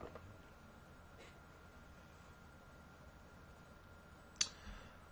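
A computer mouse clicked once, sharp and close, with a fainter click earlier, over a steady low hiss of room noise.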